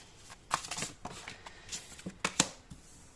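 Tarot cards handled and drawn from a deck, close, quiet snaps and papery slides arriving in short uneven bursts, with a brisker flick near the end.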